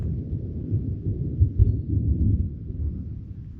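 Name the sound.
thunder rumbling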